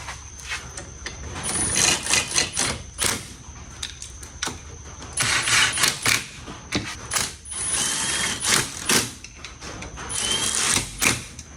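Rapid ratcheting clicks and metallic mechanical ticks come from a wrench snugging bolts down in a crisscross pattern on a Honda Civic, in close repeated bursts with short pauses between them.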